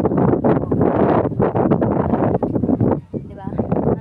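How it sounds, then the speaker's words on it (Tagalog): Strong wind on a hilltop near a helipad buffets the microphone in loud, continuous gusts, with a person talking throughout. "Ang lakas ng hangin ng taas ko."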